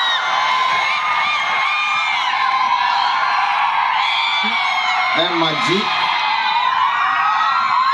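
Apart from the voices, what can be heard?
students cheering and applauding for the vice principal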